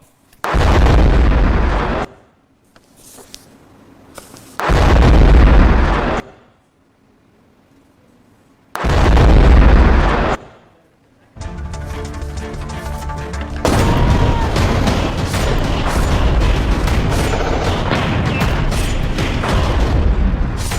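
Several loud, heavy explosions of military buses and trucks boom in separate bursts with pauses between, followed by a long sustained roar of blasts and rumbling.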